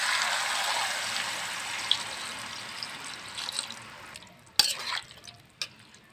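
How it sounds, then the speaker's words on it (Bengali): Water poured into a pan of fig curry (dumur dalna): a steady splashing gush for about four seconds, then trailing off into a few distinct drips and small splashes. "এবার দিয়ে দিব জল"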